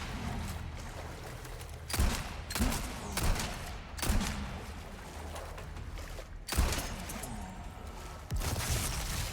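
Gunfire in Resident Evil 4 Remake: a handful of sharp, loud shots spaced a second or two apart, with a busy game soundscape rumbling between them.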